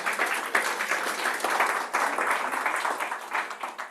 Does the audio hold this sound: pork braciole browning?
no